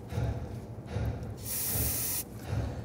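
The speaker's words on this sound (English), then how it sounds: "We're gonna use some spray solvent on a rag," A short hissing burst from an aerosol solvent can sprays onto a rag for under a second, close up, between soft rustling and handling noises.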